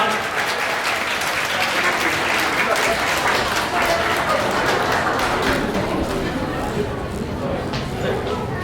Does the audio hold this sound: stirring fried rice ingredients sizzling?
no